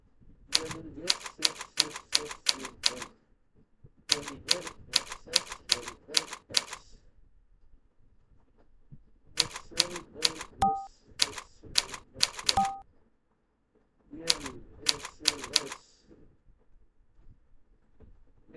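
Bursts of rapid keystrokes on a computer keyboard come in clustered runs separated by short pauses, close and crisp, with occasional small tonal beeps between typing runs.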